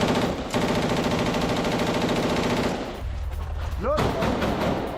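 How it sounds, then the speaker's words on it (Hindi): Heavy automatic gunfire from IDF forces aimed at buildings, a sustained loud rattling burst of rapid shots that cuts off and gives way to a thud and sharp cracks, with a voice speaking over it. "कई इमारतों पर आईडीएफ की भारी फायरिंग।"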